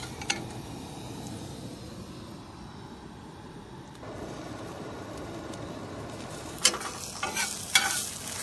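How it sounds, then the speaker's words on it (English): Mushrooms browning in a pan for pasta, a soft steady sizzle with occasional stirring scrapes and a few sharper clinks toward the end, fairly quiet and close. "I'm gonna brown them and then that's all I'm adding to my pasta."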